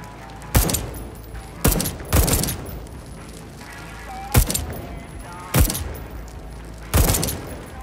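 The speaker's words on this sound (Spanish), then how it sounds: "Subfusil para infantería ligera." Bursts of light-infantry submachine gun fire in the video game Deathloop, five or six loud short volleys spaced a second or so apart over a low ambient background.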